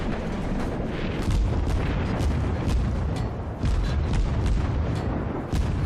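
Broadside gunfire from the St. Louis armoured cruiser in World of Warships: a dense run of heavy booms and rumbling blasts over several seconds, loud and layered with a continuous roar beneath.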